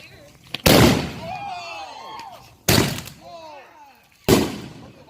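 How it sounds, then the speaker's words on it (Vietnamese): Firecrackers explode in loud sharp bangs at a Florida home gathering, three blasts spaced a couple of seconds apart, each trailing off into crackling debris and fizzing, with people's voices around them. "Đây mấy anh em đang lấy pháo đốt nè."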